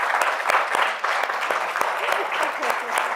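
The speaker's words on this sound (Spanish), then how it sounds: "Un aplauso." An audience applauds at the close of a talk in a women-creators lecture series on language, continuous close clapping with distinct individual hand claps throughout, and faint voices mixed in underneath.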